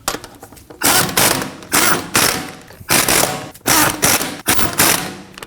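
Lug nuts being snugged down in a star pattern on a Ford Edge rear wheel: six loud bursts of mechanical ratcheting rattle, each about half a second long and separated by short pauses.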